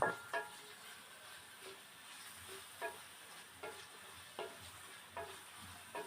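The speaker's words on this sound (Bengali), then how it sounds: "পেঁয়াজ রসুন কাঁচামরিচ এগুলো একটু তেলের ভিতরে ভেজে নিচ্ছি" Onion, garlic and green chillies fry gently in oil for a gourd-peel mash, a quiet steady sizzle punctuated by regular soft scrapes of stirring at a close but low level.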